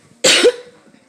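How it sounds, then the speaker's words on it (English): A single sharp, close cough bursts out from one person, a harsh breathy blast with a brief voiced catch at its end, then trails into quiet. "I'm sorry, I'm coughing."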